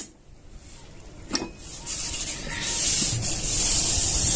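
Havari seeds being stirred into hot sugar syrup in a pan make a steady scraping, rubbing sound that starts quiet and grows louder and denser, with a sharp knock near the start.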